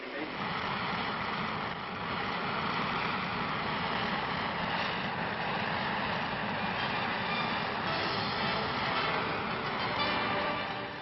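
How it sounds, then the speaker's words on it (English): A military transport aircraft takes off with a loud, steady engine roar that stays close and constant throughout, broad and rumbling with no pauses. "Mass 144, winds 210 degrees, 12 knots, cleared for takeoff."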